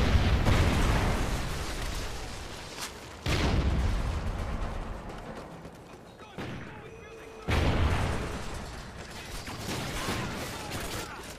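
Rocket explosions in a video game war scene, several loud booming blasts with sharp onsets that decay into rumbling debris, recurring across the stretch with intermittent radio-style voice chatter mixed in.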